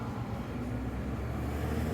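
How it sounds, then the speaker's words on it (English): Cars drive past at a distance, producing a low, steady traffic rumble with no sharp individual passes. "There's cars going."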